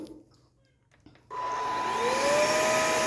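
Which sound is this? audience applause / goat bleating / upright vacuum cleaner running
upright vacuum cleaner running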